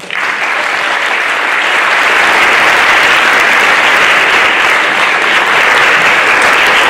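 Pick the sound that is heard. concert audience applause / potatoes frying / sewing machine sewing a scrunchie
concert audience applause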